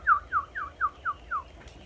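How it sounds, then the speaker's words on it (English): A bird twitters in the early morning, six quick, bright chirps in a steady row, close and clear over a quiet background. "Caterpillar woke to the sound of twittering."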